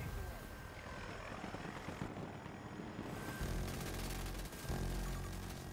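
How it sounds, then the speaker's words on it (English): Aircraft engine drone, helicopter-like, hums steadily in Battlefield 2042 gameplay, fairly faint and distant, growing somewhat louder near the end, with a voice talking over it. "Marking aircraft"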